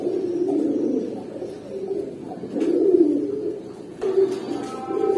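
A pair of red Gorra pigeons on a pigeon farm coo in low, throaty, repeated phrases that swell and fade close by, with short pauses between calls.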